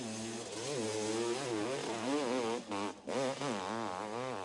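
A hillclimb motorcycle engine revs hard and close, its rising and falling pitch sweeping in waves, briefly dipping then surging again at full strength with no talk over it.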